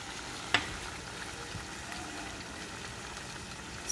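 Tomato puree and chili sauce fry in a pan of butter chicken, giving a faint, steady sizzle with a single sharp clink near the start and another at the end.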